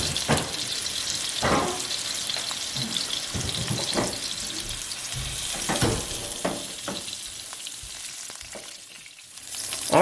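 One-inch-thick pork chops sear in a hot pan with a constant close sizzle and crackle, marked by occasional sharper pops and clanks, and no one speaks.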